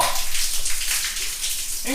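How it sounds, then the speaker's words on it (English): High-pressure water gushing from a bathroom tap in the Philippines, a loud continuous hiss and splash, with a voice briefly entering near the end. "Let's take a look at the water pressure."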